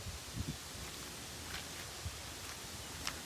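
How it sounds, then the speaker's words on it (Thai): Wind blowing steadily over a rice field, a soft continuous rustling hiss with a few faint low thumps of gusts against the microphone, fairly quiet. "เสียงลมอาจจะดังมากนะคะ"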